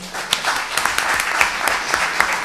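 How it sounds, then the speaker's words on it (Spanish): A theatre audience claps together at a poetry reading, a brisk patter of many hands that fills the room without pause. "Un aplauso."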